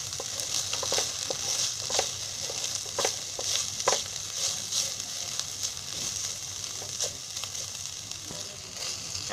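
Sprouted moong beans roasting and being stirred in a hot pan, a steady sizzle with scattered scraping and clicking strokes of a spoon, close and continuous.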